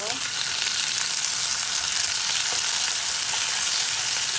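Tomatoes drop into a pan of sautéing garlic and onion for ginisang mongo, giving a loud, continuous close sizzle with faint stirring, no talk.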